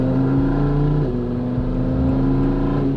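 A Lamborghini Huracan engine at full throttle gives a loud, continuous droning roar, heard close up with no talking.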